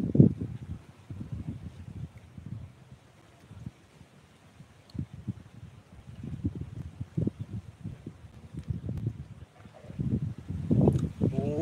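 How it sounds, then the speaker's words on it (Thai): Strong wind buffets the microphone outdoors in irregular low gusts and bursts, loud at times and dropping away between them. "ดูลมมาอย่างแรงเลยเนี่ย"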